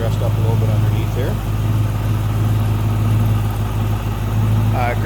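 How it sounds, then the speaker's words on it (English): A 289 V8 engine in a 1963 Ford Fairlane 500 idles with a smooth, deep, steady rumble close by, while someone talks over it. "289 V8. See, it runs pretty smooth. Sounds good."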